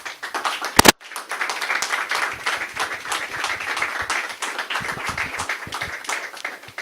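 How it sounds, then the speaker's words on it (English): Audience at a 2017 Whalers signing day applauding the signed athletes, a loose, moderately loud patter of clapping hands with one sharp loud bang near the start. "So get one last round of applause for our signings."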